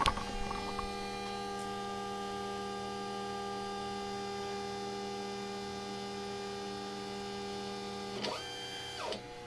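An X-Carve CNC machine probing the top of a wood blank for a Christmas door hanger gives a steady tonal hum with a soft stepper-motor whine rising and falling near the end, close and fairly quiet.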